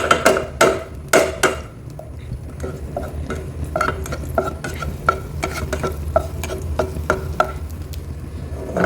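Garlic sautéing in a small amount of cooking oil, with a steady sizzle under repeated sharp clinks and scrapes of a utensil stirring against the pan.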